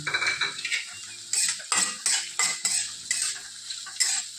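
Green chilies tossed into a pan with onions and stirred, with sharp metallic clinks and scrapes of a spoon against the pan in an irregular rhythm over a faint sizzle, close and clear with no talking.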